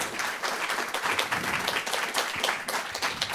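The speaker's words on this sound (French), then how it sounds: "Mais on vous applaudit, Abdelmajidi" Audience applause after a talk on brain implants for paraplegic patients, a steady dense patter of many hands clapping for a few seconds at moderate level.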